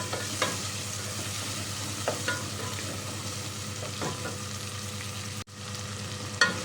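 Chicken gizzards sautéing with onion in a pan, with a steady close sizzle broken by occasional stirring scrapes and a brief clatter near the end, with no voices.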